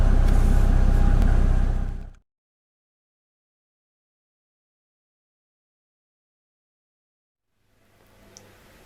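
A 1991 Mercedes 350SDL engine runs loud and close with a rough diesel rumble for about two seconds, cuts to silence, then a faint idle returns near the end.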